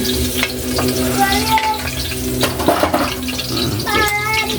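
Onion sizzles as it is sautéed in a hot pan for chicken with tomatoes and pechay, a steady crackling fry with stirring scrapes, nearby and continuous, while people talk faintly in the background.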